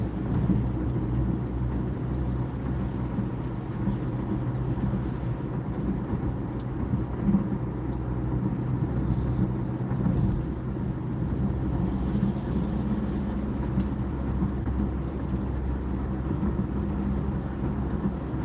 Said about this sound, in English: So that's a lot of heavy traffic.